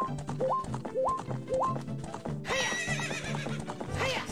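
Epona the horse in the video game Legend of Zelda: Ocarina of Time gallops with a steady, repeating clip-clop of hooves, then gives a loud, bright whinny over the game's background sound.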